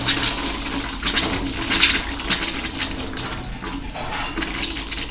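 Water gushes from a tap fed directly by a pumping motor with no storage tank, a steady close rushing and splashing over a low motor hum.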